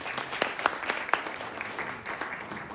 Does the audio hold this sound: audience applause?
yes